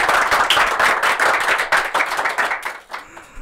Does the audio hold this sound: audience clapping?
yes